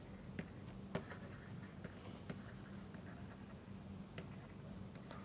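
Chalk or marker taps and strokes on a board during a lecture: faint, scattered clicks and short scratches that come irregularly over a quiet room background, with no speech.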